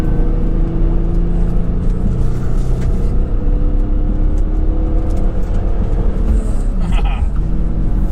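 A BMW E46 M3 pushed hard through a turn, its engine holding a steady, loud rumbling drone throughout, with a brief higher whine near the end of the corner.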